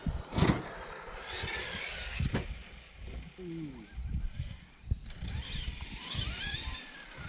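An Arrma Notorious V5 RC car drives over rough ground and takes a big jump, its electric motor whining and its wheels scrabbling at mid distance. Someone talks over it.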